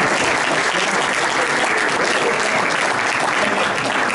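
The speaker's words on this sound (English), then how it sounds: "You're welcome to clap for Eric as he comes up" A crowd applauds steadily and loudly throughout, dense clapping with no pauses.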